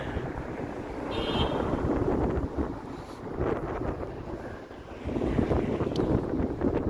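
Strong wind buffets the microphone in continuous gusty rumbles on a cold evening street in downtown Toronto, rising and falling throughout.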